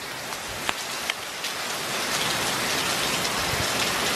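Heavy hurricane rain pours and gushes from house gutters in a dense, unbroken roar, with a few sharper splashes early on and no voices.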